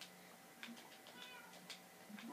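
A cat meowing in the video game Minecraft, a few faint short mews spread through a quiet, slightly noisy background, with no talking.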